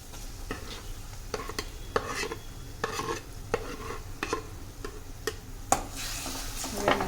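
Oro, a roasted-eggplant mixture, stirred in a pan at a steady rhythm, with repeated sharp scrapes and taps of the spoon over a soft, continuous sizzle.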